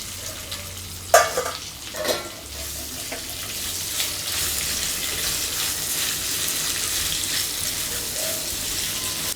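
Sliced onions hit hot oil in a kadai with chana dal, fennel, curry leaves and ginger, giving a sharp initial crackle and stirring clatter that settles into a steady, soft sizzle.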